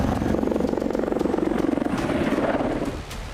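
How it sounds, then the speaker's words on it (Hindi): A Mi-28 attack helicopter flying, its rotor beating in a fast, loud, pulsing chop that stays close and steady before fading slightly at the end, with no talking. "ईरान को रूस की तरफ से Mi-28 अटैक हेलीकॉप्टर की सप्लाई की गई।"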